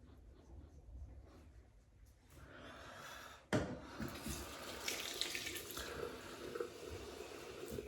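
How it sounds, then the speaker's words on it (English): Water from a tap runs onto a shaving brush at a bathroom sink for a wet shave, a steady splashing flow that starts midway and grows louder, close by, with no talk. "Bit of water on the brush."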